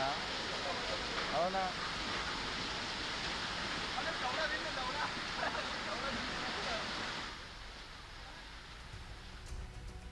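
Floodwater rushes and churns during heavy monsoon rain in Nandgaon, Amravati, with vehicles half submerged, a dense steady roar that fades slightly toward the end.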